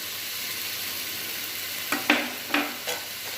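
A spoon stirs masala in a pan with red chilli powder and turmeric for a mushroom gravy: a steady low sizzle, then four sharp scraping strokes close by toward the end.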